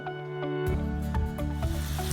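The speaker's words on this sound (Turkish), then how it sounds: "Tavamıza bir miktar yağ döküyoruz." Oil pours into a hot pan for frying meatballs and begins to sizzle, a steady frying hiss with a few crackles and pops, close and continuous.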